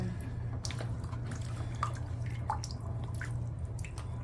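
Water drains sluggishly from a hair-clogged drain in a flooding building, a steady low gurgling wash broken by scattered drips and small splashes close by.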